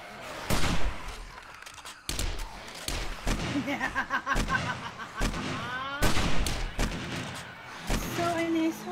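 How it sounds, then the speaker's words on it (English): Shotgun blasts in the 7 Days to Die survival game, several sharp loud bangs at irregular intervals mixed with game noise and players talking over them. "It has to be the shotgun"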